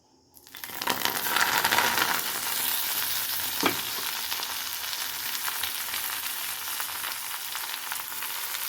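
Gongura (sorrel) leaves hit hot oil in a kadai with a sudden loud sizzle that settles into a steady, dense crackling fry, with a brief clink of a utensil partway through.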